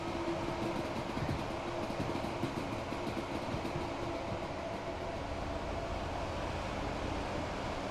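A Gatwick Express electric train in the Train Sim World 3 video game produces a steady, dense rumbling drone with a faint sustained tone, constant and unbroken throughout.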